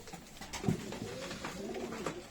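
Soft, low coos from performance pigeons roll one into another over faint background noise, with no talking.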